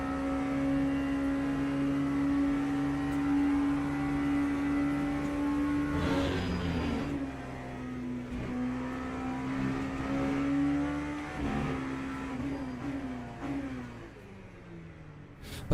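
Engine of an LMP2 prototype race car in a sim racing game, a steady droning tone held at high revs, dipping briefly through gear changes before climbing again, continuous and up close.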